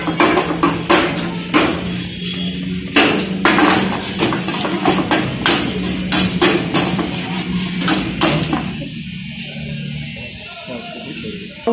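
Vegetables for Hakka noodles are stir-fried in a pan, with repeated sharp clanks and scrapes of a utensil against metal over a steady sizzle, while a voice talks at intervals.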